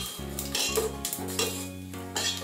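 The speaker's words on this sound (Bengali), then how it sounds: "সব কিছু দিয়ে নাড়া হয়ে গেছে।" Cashews and raisins stirred in a pan for white pulao, with a spoon scraping and clinking against metal in short repeated strokes over a low sizzle, no one speaking.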